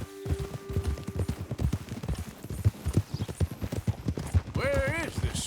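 In the Western game Red Dead Redemption 2, horse hooves clip-clop at a steady trot close by while someone talks over them, and a horse whinnies briefly near the end.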